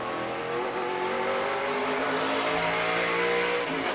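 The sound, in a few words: SRX race cars racing at Stafford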